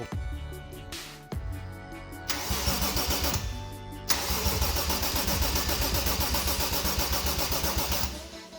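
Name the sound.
car engine cranking and starting after an engine swap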